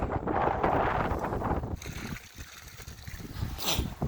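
Strong wind roars steadily outdoors in a cold polar vortex, buffeting the microphone with a broad, rumbling rush that stays loud throughout and eases only slightly partway.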